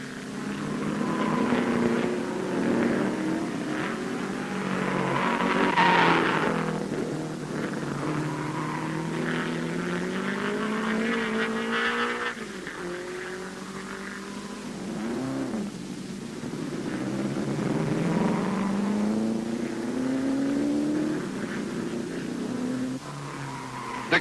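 A 1955 Grand Prix racing car, driven by Horace Gould just back from a pit stop for lack of oil, spins out of the Tarzan curve at Zandvoort. Loud engine roar and tire squeal rise and fall continuously, with other cars racing nearby.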